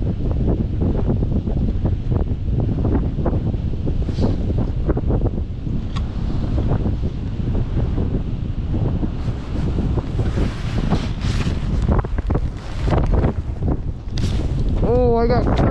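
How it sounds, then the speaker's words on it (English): Strong wind buffets the microphone out on the ice during perch and walleye ice fishing, a loud constant roar with gusts throughout and voices faintly mixed in. "it's windier than poop out there"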